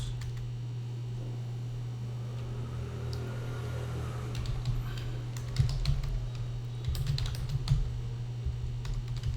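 Rapid typing on a computer keyboard: irregular runs of light clicking keystrokes, steady and close, over a constant low electrical hum.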